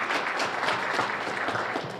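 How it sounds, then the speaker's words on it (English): Audience at a tax season kick-off event applauding the MC, dense steady clapping for a couple of seconds, moderately loud. "How about a round of applause for Rachel?"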